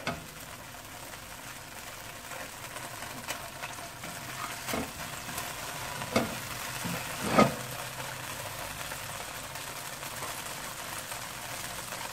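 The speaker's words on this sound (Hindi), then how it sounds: "इसको करेंगे हम जरा सा फ्राई" Sliced ginger fries in a pan with a steady low sizzle, punctuated by occasional spatula scrapes and taps, one louder clack near the middle.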